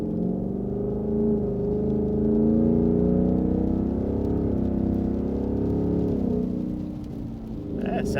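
A 2018-2023 Mustang GT with an AWE Touring Edition cat-back exhaust pulls through the gears at road speed, a steady loud drone with rising and falling harmonic tones that shift at each gear change.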